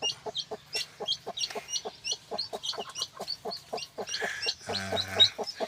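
Small backyard coop of chickens on a farm that also raises pigs, with a steady run of close clucks and short squawks from several birds, busier toward the end, with no talk.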